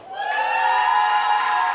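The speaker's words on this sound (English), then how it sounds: "you like give me a round of applause or yelling or screaming" A pitch-contest audience in Minsk in 2019 lets out a loud, sustained collective yell and cheer for the startup RocketDAO, voices blending into one steady, ringing shout with no distinct clapping, lasting just under two seconds.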